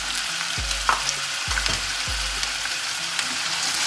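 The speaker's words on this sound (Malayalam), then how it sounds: "ഈ കിഴങ്ങ് ഫ്രൈ ആയി വരുന്ന നേരം കൊണ്ട്" Chopped potatoes fry in a pan for a Kerala buttermilk curry, giving a loud, constant sizzle with a few dull knocks and stirring scrapes at close range and no talking.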